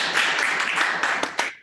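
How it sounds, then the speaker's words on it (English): A small group of people clap and cheer together in a meeting room during a virtual project meeting, a dense stretch of applause lasting the whole moment and tapering at the end with a few last sharp claps. "So we're going to clap in the room."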